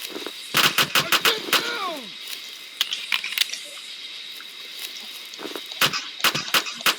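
Gunfire from a Black Hawk video game comes in rapid bursts of sharp shots, with a cluster at the start, scattered single shots in the middle and another burst near the end, alongside faint game effects.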